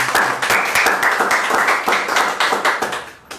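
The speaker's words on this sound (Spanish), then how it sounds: "Le damos un aplauso." A church congregation at a parish Mass applauds a visiting seminarian with loud, close, steady clapping from many hands for over three seconds before it trails off.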